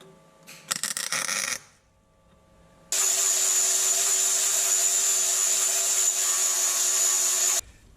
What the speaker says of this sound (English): Lay this down here, gas on, start welding.